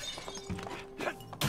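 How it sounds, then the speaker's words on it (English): Glass shatters in the video game It Takes Two, a quick crash with bright scattered tinkling amid game sounds, with another bright burst at the end. "you broke a glass"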